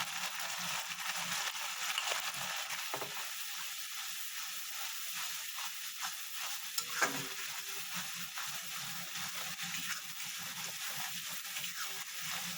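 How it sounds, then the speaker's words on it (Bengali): Spice masala with salt is sautéed in a pan, making a soft, steady sizzle with a few faint spoon scrapes and knocks, quiet and close with no talk. "সেটা দিয়ে ভালো করে কষিয়ে নেব।"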